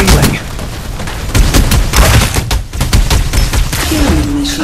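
Dense, loud gunfire from a Farlight 84 battle-royale match, with rapid overlapping shots and booms filling the whole stretch amid game effects.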